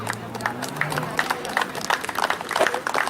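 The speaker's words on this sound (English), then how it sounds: "So a big round of applause for all these people." Audience at a cricket tournament final in Michigan clapping, scattered individual claps standing out over a low murmur and hum, moderately loud and uneven rather than a dense ovation.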